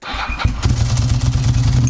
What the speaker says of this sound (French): Il y a un bruit, c'est une Ducati